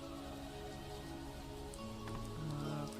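Rain falling in the Vintage Story survival game, a soft continuous patter at low level, steady across the moment with faint tonal background music underneath.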